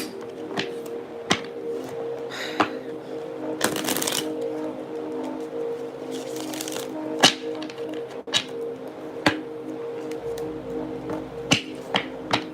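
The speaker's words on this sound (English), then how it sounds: "Let me just shuffle my cards." Repeated crisp tarot card shuffles with sharp riffling bursts and taps, close and clear over a steady low hum, no talking.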